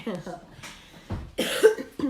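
A series of rough, throaty coughs comes in short bursts close to the microphone, with brief pauses between them.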